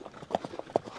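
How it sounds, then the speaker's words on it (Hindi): Horses carrying riders clip-clop past in a village near Al Ula, Saudi Arabia, their hooves striking in an uneven, quick rhythm of sharp knocks, close by, with faint background murmur. "देख रहे हैं घोड़े सवारी करके जा रहे हैं"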